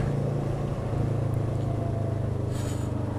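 An adventure motorcycle is ridden, with a steady, low engine drone heard close and constant and a brief faint hiss partway through.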